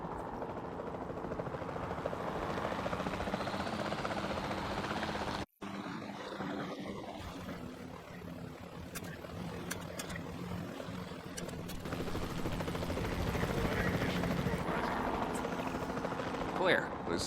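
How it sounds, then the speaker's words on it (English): A capture team helicopter flies in Jurassic World Evolution 2, giving a loud, steady rotor-and-engine roar that runs almost throughout, broken once by a split-second dropout, with a faint high whine in the background. "Then the sensible thing is to take a capture team helicopter."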